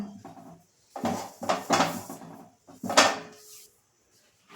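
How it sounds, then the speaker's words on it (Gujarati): A few clattering metallic knocks as a wok is set down on a gas stove, short bursts separated by brief silences, close by. "ગેસ ચાલુ થાય એટલે તેના પર એક કડાઈ રાખવાની"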